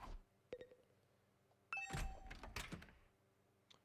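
A doorbell in the video game The Hundred Line: Last Defense Academy rings with a bright two-tone chime, preceded by a few soft thunks and followed by a clattering burst, fairly quiet overall.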